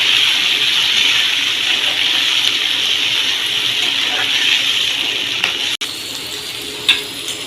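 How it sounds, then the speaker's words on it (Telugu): Green peas frying in a pan for a potato and peas dish, giving a loud, continuous close sizzle with a brief clatter near the end. "మటర్ వేసి కొంచెం ఫ్రై చేద్దాం."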